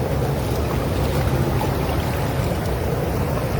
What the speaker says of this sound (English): this water hit me in my eye now, a sprinkler acting a fool